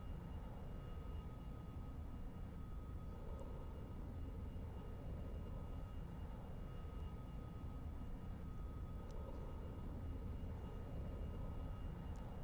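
A steady, faint propeller airplane engine drone from the X-Plane flight simulator runs continuously without change in pitch or loudness, with no talking.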